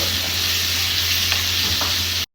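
Steady, loud sizzling of a tempering in hot butter, a continuous crackling hiss with a few faint pops, no voices.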